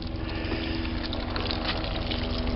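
A windmill-driven DIY water pump fills a bucket, giving a steady close gush and splash of water with a mechanical pumping rumble underneath, and no talking.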